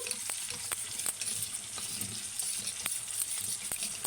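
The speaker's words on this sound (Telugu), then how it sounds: "బంగాళదుంపలు ఉల్లిపాయ ఇలా ఫ్రై అయిపోయిన తర్వాత" Onions and potatoes frying in a pan for a mixed vegetable kurma give a steady close sizzle throughout, with scattered sharp clicks of a utensil stirring against the pan.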